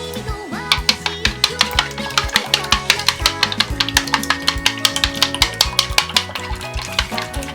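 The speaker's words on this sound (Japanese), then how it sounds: "卵は2個溶いておきます" Two freshly laid eggs are whisked briskly in a bowl, a rapid run of sharp clicking strokes in a steady rhythm, loud and close, with no talking.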